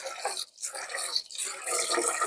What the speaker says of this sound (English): And then I dump this water out.